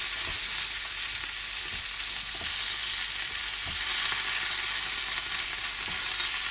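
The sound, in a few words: vegetables frying in a pan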